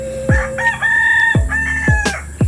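A rooster crows nearby in a Philippine home setting, a loud, drawn-out cock-a-doodle-doo with rising and falling tones, interrupted by sharp clicks and knocks during a drone unboxing.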